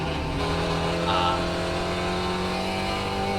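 Spec Racer Ford race car in iRacing at Phillip Island, its engine droning steadily at high revs with a constant, buzzing tone as the car holds speed through a bend, loud and close throughout.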